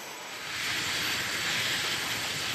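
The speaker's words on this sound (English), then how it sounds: "The rhythmic thumping of the rotor blades reverberates through the air as the helicopter hovers steadily above the drop zone." A CH-47 Chinook helicopter hovers above a drop zone, giving off a loud, steady, broad roar that swells slightly and holds without a break.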